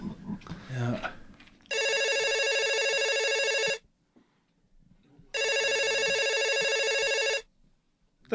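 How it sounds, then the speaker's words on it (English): A mobile phone rings in two long electronic bursts, each about two seconds, separated by a pause, loud and close; someone talks briefly before the first ring. "My phone's going off here."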